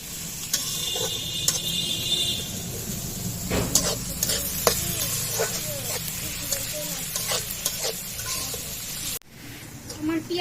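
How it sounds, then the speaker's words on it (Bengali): Onions frying in a pan for fish-head muri ghonto, with crackling sizzle and repeated sharp scrapes and clinks of stirring. A voice talks faintly underneath, and a brief gap near the end breaks the sound. "পেঁয়াজটা খুব ভালো করে ভেজে নেব।"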